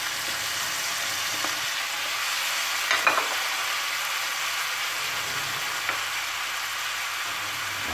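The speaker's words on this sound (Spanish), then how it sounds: "Ahora vamos a echar dos tomates rallados." Grated tomatoes fry in a pan with rice, secreto ibérico and vegetables, giving a steady, even sizzle with occasional soft scrapes of stirring.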